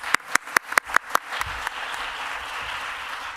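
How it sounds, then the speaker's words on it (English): About six sharp, evenly spaced claps ring out alone before an audience joins in, growing into steady, sustained applause from a crowd at a women's health session. "Big round of applause."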